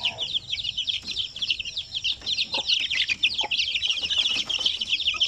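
A group of one-month-old native Zampen chicks, about fifteen of them, peeping together in a busy, overlapping chorus of high chirps, close by and continuous, with a few soft clucks mixed in.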